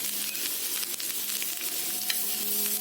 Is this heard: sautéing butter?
yes